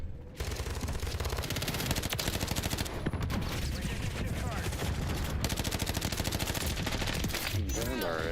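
Sustained automatic gunfire in Call of Duty: Modern Warfare III multiplayer, dense rapid bursts of rifle and machine-gun fire continuing throughout, loud and close, with occasional player voice chatter beneath.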